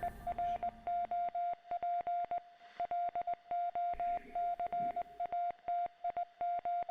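A Morse code radio transmission in The Secret World Legends beeps in a steady tone, keyed into short and long pulses with irregular spacing, with faint background hum and a brief murmur partway through.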